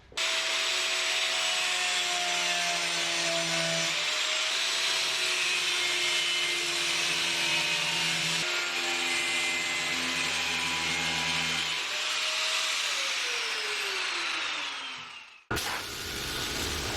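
A power tool cuts old screws out of reclaimed house lumber, a loud, steady whining grind with shifting pitch that runs almost continuously, then cuts off near the end.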